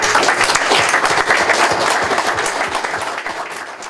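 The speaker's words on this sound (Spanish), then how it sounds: "les pido que le recibamos con un gran aplauso" An indoor audience in Stockholm applauds to welcome a Chilean Communist Party leader and deputy, dense sustained clapping from a crowd, loud at first and slowly thinning over several seconds.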